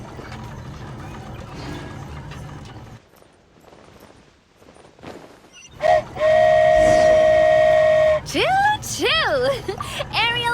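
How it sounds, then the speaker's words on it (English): The Aerial Express, a flying train in a video game, sounds a loud sustained whistle for about two seconds after rumbling rail noise. Sweeping tonal chimes follow it. "Choo-choo! Aerial Express moving out."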